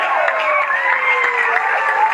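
Audience at a DXN business meeting cheering and clapping, a loud, dense wash of voices and applause with whistles and shouts rising above it, steady throughout.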